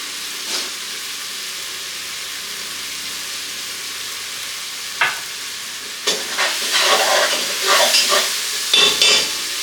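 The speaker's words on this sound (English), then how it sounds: "Couple more minutes of sauteing the onions, then we'll throw the shrimp and the asparagus in." Onions sauteing in a pan for an asparagus and garlic shrimp dish, a steady low sizzle with a few isolated stirs, then several busier bursts of spatula scraping and louder crackling toward the end.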